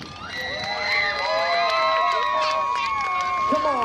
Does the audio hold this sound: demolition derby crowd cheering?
yes